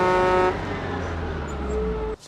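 A bus horn honks in the Hocus Pocus film, one long loud steady blare held for about two seconds over low engine rumble, then cutting off abruptly.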